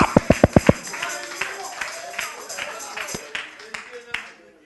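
Church congregation clapping in a sharp burst of five quick, loud claps at the start, then scattered lighter claps and taps continuing under a preacher's voice.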